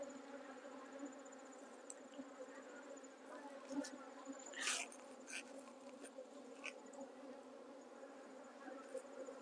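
Honey bees buzz around an open hive during a midsummer colony inspection, a faint, continuous hum with a few louder bees passing close.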